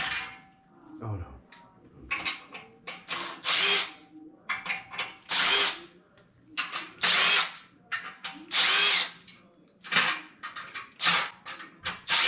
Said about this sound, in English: I got to drill screws in them.